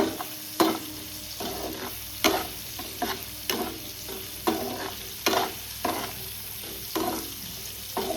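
Beetroot, potato and eggplant fry over a low flame in a pan, a soft continuous sizzle broken by regular scraping stirs about every half second to second, close and fairly quiet, with no voices.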